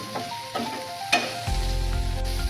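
A spice mix for bitter gourd curry with coriander powder, chili powder, jaggery and grated coconut fries in a pan: a few spoon taps and scrapes, then a loud, steady sizzle breaks out and holds close up.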